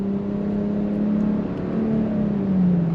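A 2025 Nissan Rogue Platinum with all-wheel drive pulls away from a traffic light, its engine droning steadily and rising gently in pitch as it accelerates, heard close from inside the cabin with no talking.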